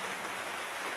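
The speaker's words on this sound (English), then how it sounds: "I think you can hear the rain." Steady rain falling outdoors around a steep roof of a barbarian-style shelter, a dense even hiss with no distinct drops, continuous and moderately close, no talking.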